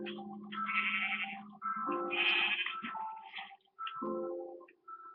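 Sheep in an Xbox game bleat repeatedly in a string of loud, wavering calls with short pauses between them, heard without talk.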